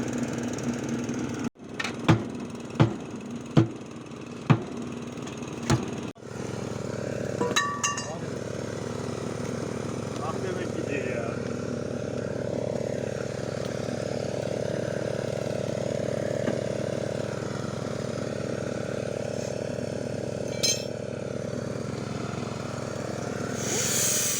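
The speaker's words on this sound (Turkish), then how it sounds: "Evet makine çalıştı." Leyland 154 tractor engine running at a steady idle, a low continuous rumble that follows several sharp knocks or clanks at the start, with faint talk over it.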